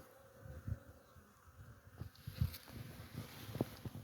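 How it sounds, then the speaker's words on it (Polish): Honeybees buzz steadily around hives in an apiary on a warm early spring day, with louder passes as individual bees fly close to the microphone, under faint outdoor wind. "Zobaczcie, jak to nasze pszczoły latają."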